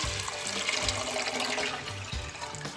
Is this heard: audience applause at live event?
no